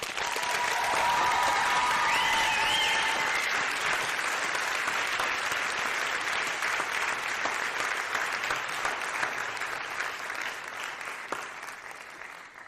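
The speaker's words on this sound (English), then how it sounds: "I think we need to give them another round of applause." A school audience at a senior creative writing thesis event gives a long, loud round of applause, dense clapping that holds steady before slowly thinning, with a few faint cheers early on.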